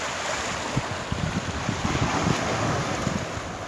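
Strong sea waves surge and wash continuously at Dammam Corniche on a rough day, with steady wind buffeting the microphone and low rumbling surf throughout.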